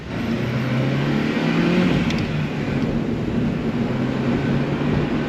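A Honda Civic Si EP3 with VTEC pulls under acceleration, the engine drone loud and steady inside the cabin with strong road and wind roar and a slight rise in pitch over several seconds.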